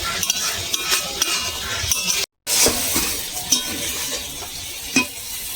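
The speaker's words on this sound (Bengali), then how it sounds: "এবার নেড়ে চেড়ে জলটা শুকনো করে নামিয়ে নেব।" A spoon stirs a water lily and potato curry in a pan, scraping and clinking against the metal over a soft sizzle as the liquid cooks off, with a brief dropout midway and no talking.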